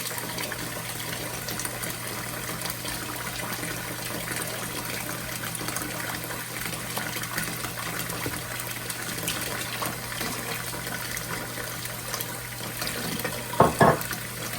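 Steady tap water running into a basin for rinsing and refilling, a continuous even gush at moderate level with a brief splashy burst near the end.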